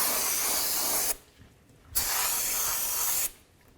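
Spray cleaner blasts onto the parking brake shoe area of a 2007-2017 Ford Expedition in two long, loud, steady hissing bursts separated by a short pause, with no talking.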